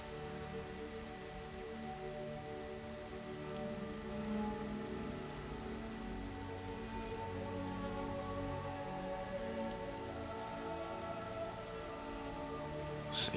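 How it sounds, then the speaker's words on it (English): Rain in Skyrim pattering steadily on surfaces, a soft even wash with no breaks, ending in a brief louder knock. "Alright. I gotta get out of this rain."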